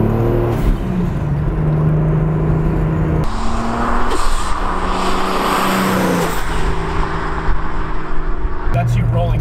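A Volvo fitted with a 2JZ engine eases onto the throttle, its engine note rising gently in steady steps from inside the car, with people talking over it.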